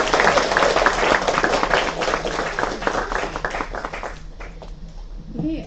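Audience at the UCSB Mini-Con conference breaks into loud, dense clapping that holds steady for several seconds, then thins out and fades away toward the end.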